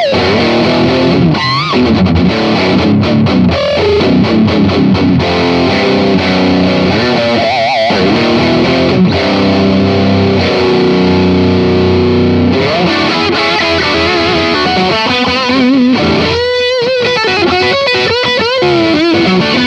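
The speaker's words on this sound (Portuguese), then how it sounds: "Eu tô usando um overdrive da Fire, uma parceria que eu tenho, um pedal signature chamado Burnet e reverbzinho da TC, direto no canal limpo do ampli" An electric guitar is played through a Fire Burnet signature overdrive pedal and a TC reverb into the amp's clean channel, producing loud, continuous distorted lines and chords with a reverb tail. No talking is heard.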